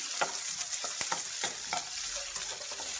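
Sliced onions fry in oil with cumin for a capsicum curry, giving a steady close sizzle broken by soft scraping stirs of a spoon in the pan.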